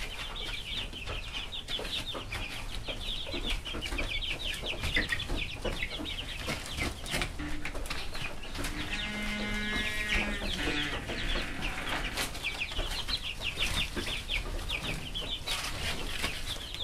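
Chickens cluck and squawk steadily, with scattered flaps and scuffles as they are caught on a farm. The sound is close and continuous, with no clear talk over it.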